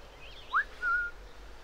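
A short two-part whistle from a stealth character in Assassin's Creed IV Black Flag, used to lure a guard: a quick rising chirp, then a longer steady tone, heard clearly over quiet game ambience.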